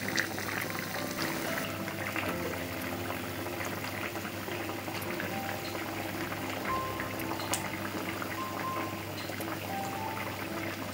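A pan of egg curry gravy bubbles steadily at close range with a continuous soft sizzle and simmer, full of small liquid pops and no voices.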